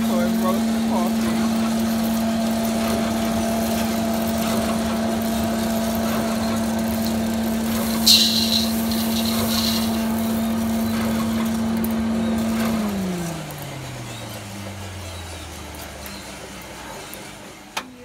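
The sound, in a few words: coffee roasting machine running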